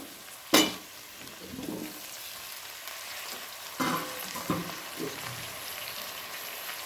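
Ginger garlic paste, tomatoes, green chillies and onion fry in a pan for mutton biryani, a steady sizzle broken by a loud splash at the start and a few stirring scrapes.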